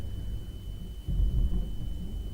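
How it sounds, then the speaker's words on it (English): A thunderstorm's thunder breaks in as a sudden deep rumble over a low background roar, swelling loudly about halfway through and rolling on steadily to the end, with no voices. "a thunderstorm."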